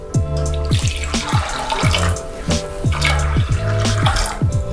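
A litre of water poured into a pot with sugar and red beans for Japanese anko, a loud close continuous gurgling splash with rhythmic glugging pulses throughout and no voices.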